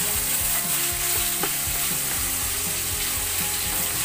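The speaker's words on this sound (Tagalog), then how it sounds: "Pag parang napiprito-prito na yung ating karni" Steady, dense sizzling of meat frying in a hot pan, with a rhythmic mechanical clicking or scraping running through it, no voices.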